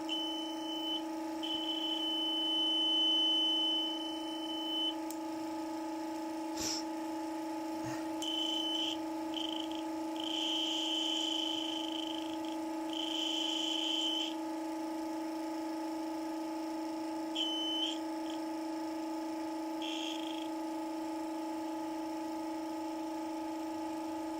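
A homemade magnet motor runs with a steady, even electrical hum, while an intermittent high-pitched tone keeps cutting in and out over it.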